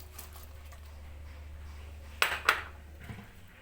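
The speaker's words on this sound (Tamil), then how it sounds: "இப்போ நான் எல்லாத்தையும் sayur எல்லாத்தையும் வெஜிடபிள் எல்லாத்தையும் மிக்ஸ் பண்ண போகிறேன்" Chopped vegetables such as spring onion, carrot and coriander being tossed together in a bowl for crispy vegetable fritters, with a faint low hum throughout and a few sharp clinks and scrapes near the end.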